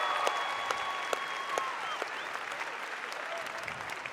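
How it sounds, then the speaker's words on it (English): Audience applause fills the room steadily at a moderate level, a dense patter of many hands with a few sharper claps standing out and faint tonal sounds drifting through. "Give yourself an applause"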